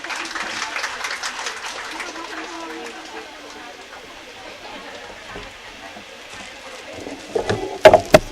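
Audience applause at an International Women's Day felicitation and prize distribution ceremony: a steady wash of clapping runs throughout at moderate level, with a few sharper, louder claps near the end.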